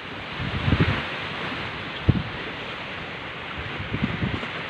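Rough sea surf around a small fishing boat, with irregular waves thumping and splashing in bursts over a steady rush of wind noise, close and fairly loud.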